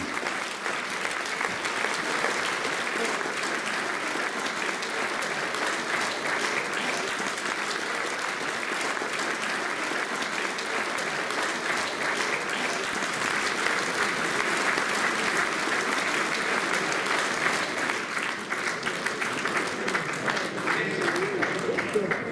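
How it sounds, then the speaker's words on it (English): Sustained applause fills the hall at the World Speedway Riders Association's annual dinner, a thick, steady wash of many hands clapping that carries on unbroken for over twenty seconds. "give him a round of applause for Britain's brightest future"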